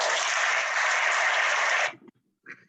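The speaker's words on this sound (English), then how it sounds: "I love that applause." Dense, steady applause from an audience at a talk, loud and sustained for nearly two seconds before cutting off abruptly, followed by faint scattered sounds.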